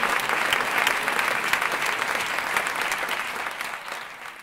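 Audience applause fills the room, dense and steady clapping from a sizeable crowd that stays fairly loud before slowly thinning toward the end.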